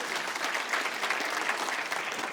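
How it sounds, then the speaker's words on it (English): A conference audience applauds, dense even clapping from a large crowd sustained throughout, moderately loud and without talk. "So let's give them a round of applause, okay?"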